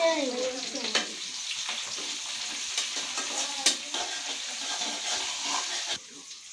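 Chicken sizzling in a pan is stirred with a spoon, steady frying hiss broken by a few sharp scraping knocks, close and moderately loud, with a brief faint voice at the start.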